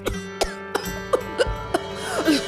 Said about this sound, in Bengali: আহারে, কাশিটা বড্ড বেড়েছে।